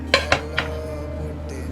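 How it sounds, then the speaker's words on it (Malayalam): Freshly steamed puttu, made without a puttu mould and layered with coconut, is tipped onto a plate, giving two or three quick, close clinks of utensil on dish followed by a softer tap, then a low steady room hum. "ഇനി പ്ലേറ്റിലേക്ക് ഇടാം."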